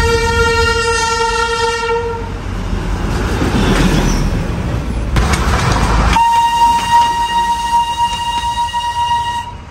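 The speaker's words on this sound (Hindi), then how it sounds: "भाई देखो ट्रेन आ रहा है यहाँ पर" A train pulls in near Siliguri, sounding a loud, sustained multi-tone horn, then rumbling close by before a second long horn blast, with no talking.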